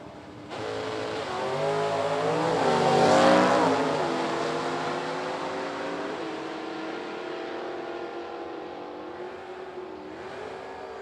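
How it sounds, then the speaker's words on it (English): A 1967 Camaro and a second car launch side by side in a drag race, engines roaring loud and close, swelling to a peak as they pass, then fading into a long high-revving run down the strip. "Donnie Vaught, left side, the 67 Camaro"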